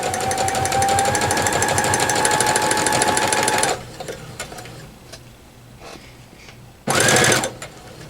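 A sewing machine stitches 2.5-inch fabric squares into a four-patch, running in a steady rapid whir for nearly four seconds, pausing amid light handling noise, then starting again for a short final burst.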